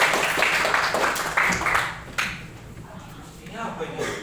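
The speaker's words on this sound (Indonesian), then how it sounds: "Oke, tepuk tangan." A junior high school class claps hands in a short, fairly close burst that fades after about two seconds, with some room noise and voices afterward.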